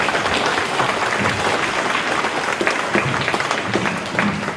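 A loud, continuous round of applause from the crowd at a Reconciliation Day ceremony, dense and near, with individual claps popping out toward the end.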